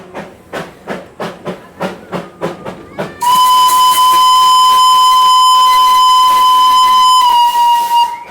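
A Darjeeling steam train chuffs in steady, rhythmic puffs that quicken, then a loud, sustained steam whistle blows for several seconds over the hiss of steam.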